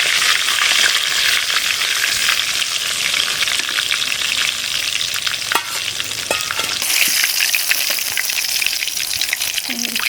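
Steady loud sizzle of rohu fish frying in hot oil, with scraping and soft clinks as the fried pieces are lifted out; a continuous crackling hiss runs unbroken throughout.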